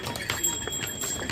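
Horse hooves clip-clop along the mountain pilgrim trail from Gaurikund to Kedarnath in Uttarakhand, a few quick, light hoofbeats close by under faint background chatter.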